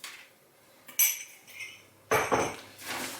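Scattered clinks and scrapes of a tablespoon against a bowl of salted shredded cabbage, a few sharper knocks between quieter rustling stirs, close by with no talking.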